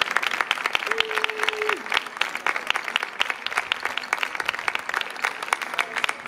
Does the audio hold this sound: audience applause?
yes